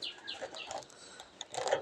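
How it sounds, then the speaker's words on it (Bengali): Pigeons in a coop give soft, fairly close chirps and coos in a short burst, with a slightly louder flutter of calls near the end and no talking. "এই যে এই পায়রাটা মনে হয় কিছুদিনের ভিতরে এই জোড়া ডিম দিয়ে দিবে।"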